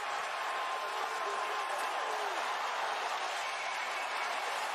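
Crowd at a boxing fight in Cleveland between Tyron Woodley and Jake Paul, a steady broad roar of cheering and applause from a large arena audience, sustained and fairly distant throughout.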